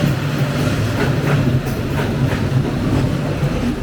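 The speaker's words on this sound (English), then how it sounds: "it turns out it was a gigantic, thunderous passenger train" A huge passenger train thunders past at very close range in Vietnam, a loud continuous rumble with heavy low-end roar and rhythmic clattering of wheels on rails throughout, steady and dominant with no voices.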